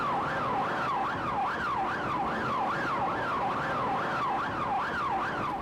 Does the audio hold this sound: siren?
yes